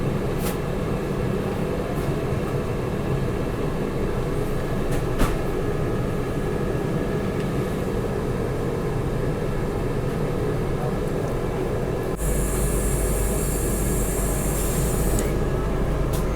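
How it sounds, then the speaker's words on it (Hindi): The Lachit Express, running between Murkongselek and Guwahati, roars past steadily on the main line, overtaking the Vande Bharat sleeper train on the loop line, a loud continuous rumble of wheels and cars with a sharp high whine near the end. "लो भाई ओवरटेक मार के निकल गई लचित एक्सप्रेस वंदे भारत स्लीपर को"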